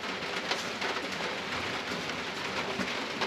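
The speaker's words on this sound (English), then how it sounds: "It's still raining, and it's so hard to work in the rain out here" Steady rain falling outdoors at a work site where a bulldozer is being repaired, a continuous even hiss of drops with no talking.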